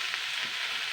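Eggplant pieces frying in oil in a pan, giving a continuous, close, fairly loud bright sizzle and hiss throughout a short moment.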